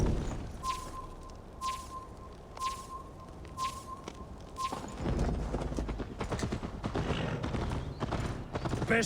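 Horse hooves gallop in Assassin's Creed Valhalla during a race, steady rhythmic hoofbeats under a repeating tonal beep, then the galloping grows denser and louder with other game sounds mixed in.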